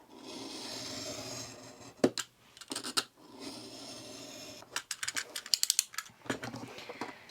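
Paper being cut on a cutting mat while making a lapbook junk journal, heard as soft close scraping and a run of short sharp snips and taps against a steady background hiss.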